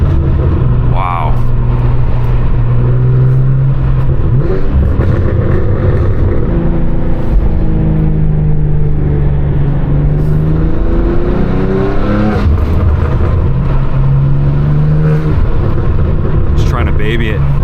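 A 2024 BMW M2 accelerates hard on a cold street at night, heard from inside the car. The engine note climbs and falls through gear changes in a loud, continuous drone that rises again after each shift.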